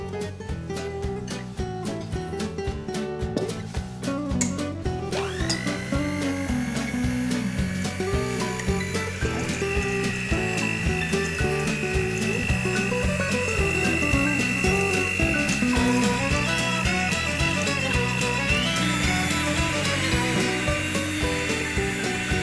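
A stand mixer fitted with a dough hook kneads rugelach dough, giving a continuous, fairly loud motor whir with rubbing and slapping texture that carries on without a break.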